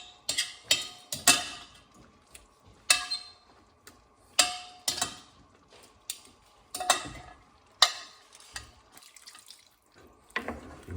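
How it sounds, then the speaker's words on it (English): Spoon stirring jugged hare, hare meat in a thickened sauce in a slow cooker, making a run of irregular scraping and clinking strokes, fairly close and clear, with no talking. "Stir."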